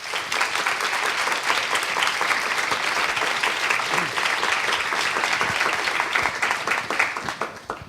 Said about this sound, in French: Je vous prie d'applaudir très chaleureusement